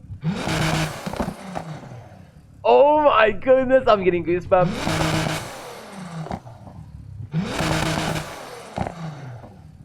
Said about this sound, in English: if you leave the acceleration, your car is gonna have like a few pops behind it